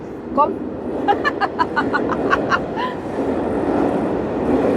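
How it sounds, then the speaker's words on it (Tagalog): Steady rumble of a train crossing a bridge, with a series of rhythmic higher-pitched squeals and tones over it, while a person talks. "dumaan na nga yung train"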